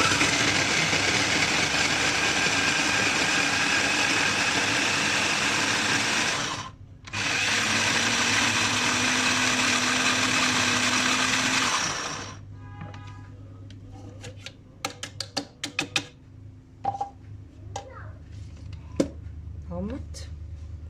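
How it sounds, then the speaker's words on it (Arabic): Food processor whirring loudly and steadily while blending eggplant pickle ingredients, briefly stopping and restarting, then falling silent as clattering handling noises and a voice follow. "نضربه مع بعض في الكبه"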